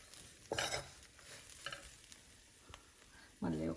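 Spice powder is stirred into a moringa leaf stir-fry in a pan, giving soft close scraping and rustling strokes over a faint sizzle, with a few short louder bursts of movement.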